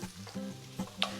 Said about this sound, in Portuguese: Percebam que ele começa a grelhar.